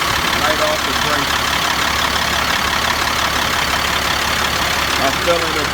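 A truck engine idles steadily during an inspection, a continuous rumbling drone with broadband noise, fairly loud and close, without clear change in pace.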